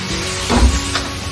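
Mushrooms, garlic and onion sizzle loudly in a hot pan, with a brief thump and stirring scrape midway through the crackling.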